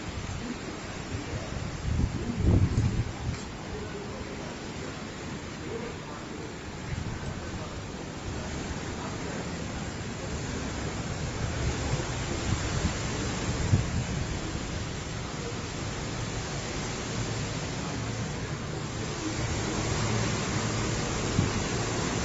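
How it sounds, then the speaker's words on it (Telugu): Strong high-speed wind rushes through trees near the Panakala Lakshmi Narasimha Swamy temple at Mangalagiri, a continuous broad hiss with gusting swells and microphone buffeting, and occasional faint voices underneath. "గాలి చాలా స్పీడ్లో వస్తుంది, చాలా హై స్పీడ్లో వస్తుంది గాలి."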